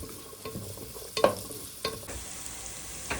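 Small shallots fry in a pan over a medium flame, a low sizzle broken by a few scraping stirs and knocks of a spoon, close and without voices.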